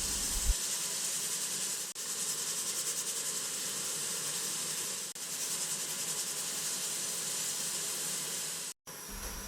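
Tamarind vatha kuzhambu simmers over medium heat on a stove, a steady broadband bubbling hiss that continues almost without break, dropping out for a moment near the end.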